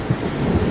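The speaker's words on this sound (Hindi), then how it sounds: "इधर तेज तूफान और बारिश की वजह से लाडो का आधा घोंसला टूट जाता है" A heavy thunderstorm with rain, as an animated sound effect: a deep, loud rumble of thunder over steady, dense rain noise, brief and continuous.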